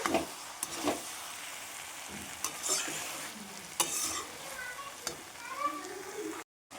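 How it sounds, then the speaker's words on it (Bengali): Chickpeas sautéed in goat fat in a pan, a soft sizzle beneath repeated scraping strokes of a spatula stirring, fairly quiet and close, ending in a brief silence. "কাবলি ছোলাটা খুব ভালোভাবে কষিয়ে নিয়েছি"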